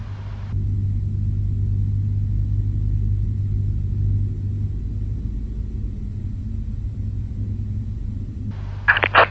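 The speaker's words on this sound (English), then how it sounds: "Giving fuel to engine 2." Deep, steady drone of a Boeing 777-300 engine 2 lighting off after fuel is introduced in Microsoft Flight Simulator 2024, holding level for several seconds before a short burst of louder sound at the end.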